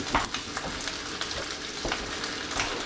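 An egg frying in a pan over medium heat, a steady crackling sizzle with brief louder pops and spatters throughout, close and alone with no voices.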